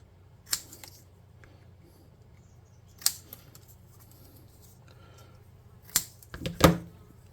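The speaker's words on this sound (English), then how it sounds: "We'll cut a little piece of cardstock to go on it." Scissors snipping a small piece of cardstock, a few separate crisp cuts spaced seconds apart, then a quick cluster of snips near the end, close and fairly quiet over faint background hum.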